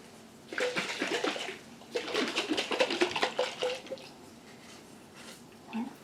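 Buttermilk sloshes inside a jar as it is shaken by hand in a home kitchen, in two quiet bursts of wet, rhythmic splashing with a soft splash near the end.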